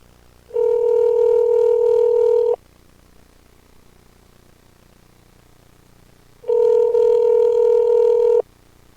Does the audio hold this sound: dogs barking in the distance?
no